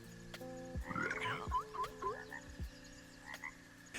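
A frog in the video game Hytale gives a run of chirpy croaks, several quick calls in a row, then a few softer ones against a quiet, tonal game backdrop.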